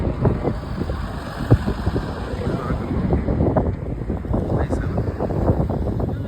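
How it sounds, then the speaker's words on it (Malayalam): Cold desert wind buffets the microphone with steady rumbling gusts and crackling bursts, a constant blustery roar with voices faintly underneath. "തണുത്ത കാറ്റടിക്കുന്നുണ്ട്"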